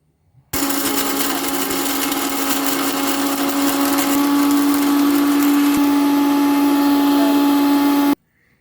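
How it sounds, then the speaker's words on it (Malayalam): A mixer grinder blends beetroot into a paste, starting abruptly and running as a loud, steady close motor whine for about eight seconds before cutting off, with no talk. "ഇത് നന്നായി അരച്ച് പേസ്റ്റാക്കാം."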